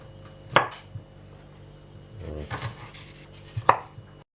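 A knife chopping red onion into coarse cubes on a board, a few distinct sharp chops with scraping and light knocks in between, close and clear.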